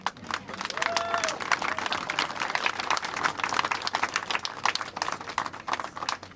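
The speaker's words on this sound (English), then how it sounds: "Give yourselves a round of applause." An outdoor crowd at a rally for Haitians facing the end of TPS claps, a scattered, moderately faint patter of applause in the open air with some voices mixed in.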